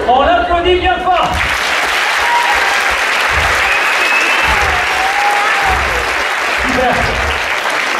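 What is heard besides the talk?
audience applause at a hypnosis show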